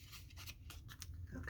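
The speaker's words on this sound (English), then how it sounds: "I'm going to try to make just a little bit of a tear" Paper is torn slowly by hand for a top-hinged journaling page, making soft, quiet crackling rips in a few short bursts, close up and without talk.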